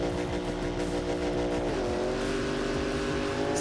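Unlimited-class drift car engine in BeamNG revs at the line of a Formula Drift event, a loud continuous drone that steps up in pitch midway and holds, with no voices.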